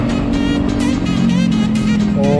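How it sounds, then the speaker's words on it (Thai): A loud, rumbling Kawasaki ZX-10R sport motorcycle exhaust roars close by, its engine note rising and shifting as it revs steadily throughout. "เสียงท่อโคตรดังเลยฮะ"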